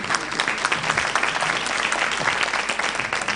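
Audience at an education conference opening ceremony breaks into sustained, dense applause, many hands clapping steadily and loudly throughout with no pauses.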